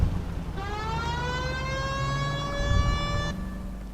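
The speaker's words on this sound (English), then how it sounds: "Hit the siren." A police car siren in the video game L.A. Noire wails steadily with a rising, sustained electronic tone over a low engine rumble, then cuts off abruptly.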